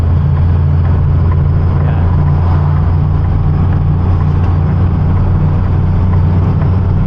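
A car descends a long downhill grade in British Columbia in a low gear, number 2 or 1, engine braking: a steady, loud low drone of engine and exhaust that holds evenly throughout.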